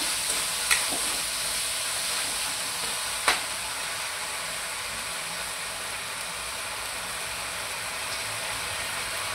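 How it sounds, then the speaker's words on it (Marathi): Schezwan chutney sizzles and fries steadily in a hot pan while being stirred into an Indo-Chinese sauce, a continuous loud hiss with two faint tapping knocks, up close. "शेजवान चटणीसुद्धा आपण छान प्रकारे मिक्स करून घेऊया"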